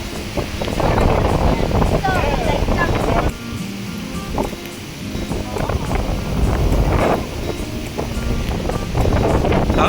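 Strong seaside wind buffets the microphone on a beach, a loud steady roar that dips briefly midway, with people talking underneath.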